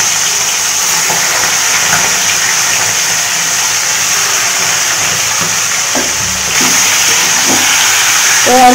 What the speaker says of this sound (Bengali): আমি গ্যাসের আঁচটা বাড়িয়ে দিয়েছি, আর চিকেনগুলো একটু ভেজে নিচ্ছি।